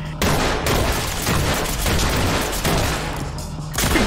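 Heavy sustained gunfire in the Ready or Not game, a dense loud fusillade of rapid shots running almost continuously with brief gaps.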